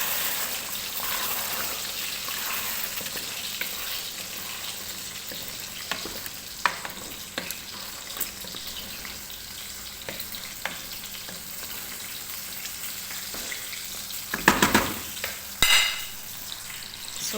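Chicken biryani is stirred in a frying pan, a soft steady sizzle with scattered spoon scrapes and clicks, building to a few louder knocks and clatters near the end.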